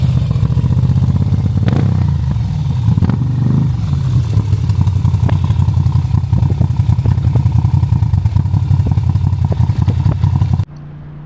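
An 800 cc motorcycle engine with an aftermarket exhaust runs loud and close with a deep, rough burble and a few sharp throttle blips early on, then settles into steady rumbling idle.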